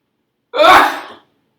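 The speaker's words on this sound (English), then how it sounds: "Somehow I'm sneezing now." A single loud, close sneeze bursts out mid-lecture, a short explosive blast that fades over about half a second and leaves silence on both sides.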